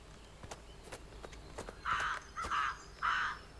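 Three harsh, buzzy bird caws in a video game, evenly spaced and fairly close, following a few faint clicks and taps.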